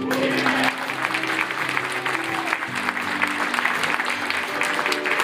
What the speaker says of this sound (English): just give it a round of applause